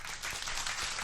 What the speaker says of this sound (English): They clap.